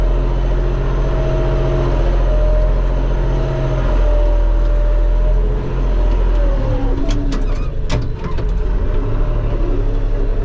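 A Deutz tractor engine runs steadily in a maize field, a loud continuous low drone with no pauses, while birds coo and call over it and a few sharp clicks come through near the end.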